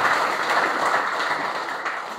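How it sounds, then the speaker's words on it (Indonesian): Church congregation at a Pentecostal service breaking into sustained applause, a dense steady wash of many hands clapping at fairly even loudness throughout, with no voices standing out. "Beri tepuk tangan yang terbaik buat Tuhan."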